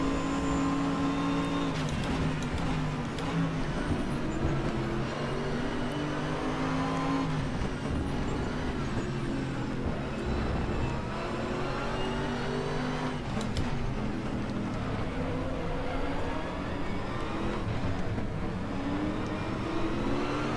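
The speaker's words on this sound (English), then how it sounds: "let you guys listen to the engine sounds" A Mercedes SLS GT race car engine in the racing game RaceRoom Racing Experience (ADAC GT Masters) drones steadily, its pitch rising and falling as it revs through gears, loud and continuous with no talking.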